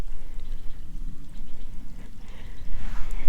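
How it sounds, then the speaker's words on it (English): Water runs in a canyon stream on a Santa Clarita trail, a soft continuous trickle and splash heard from nearby, rising a little toward the end, with no talking. "Sound of water."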